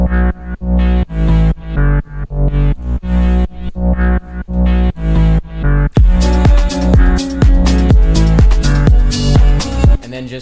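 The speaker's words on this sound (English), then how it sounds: "I added this effect over the bass" EDM bass drop layered with an added distortion and reverb effect: loud pulsing bass hits in a steady rhythm, shifting to a denser, brighter, more saturated texture partway through, no voices.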